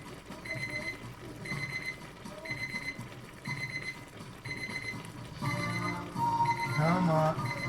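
A kitchen timer alarm beeps in repeated bursts with a steady rhythm while noodles are being cooked, and someone talks over it in the later seconds.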